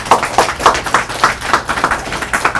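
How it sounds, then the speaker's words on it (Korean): A small seminar audience at a KISTEP forum on artificial intelligence claps in welcome for an invited researcher, giving loud, close, rhythmic unison clapping with distinct regular beats. "큰 박수로 환영해 주시죠."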